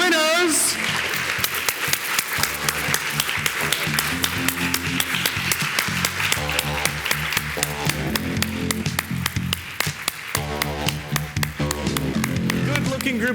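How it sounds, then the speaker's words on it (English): Hearty applause for the winners at the 2017 Monte Carlo Hero Awards Ceremony, a rhythmic round of clapping mixed with upbeat music and a voice talking over it. "One final huge round of applause for this 2017 Hero Awards winners."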